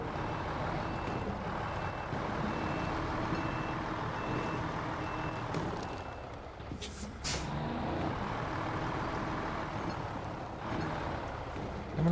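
A truck engine idling in the video game SnowRunner, a steady low rumble with a repeating reversing beep and a brief hiss partway through.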